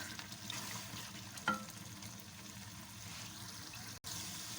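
Chicken kofta curry simmers in a kadai with a steady soft bubbling sizzle and a single brief clink partway through, no talk.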